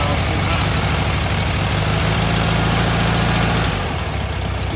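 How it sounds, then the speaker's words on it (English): An air-cooled Volkswagen engine idles fast during a tune-up, a steady loud drone with a low throbbing hum that eases slightly near the end. "Yeah, the idle's really high right now."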